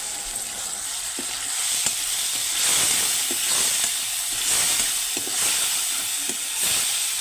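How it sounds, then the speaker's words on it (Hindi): Tomatoes with salt sizzle and fry in a hot pan, a steady loud hissing crackle with faint stirring clinks throughout, no voices. "अभी मैं डाल रहा हूँ टमाटर।"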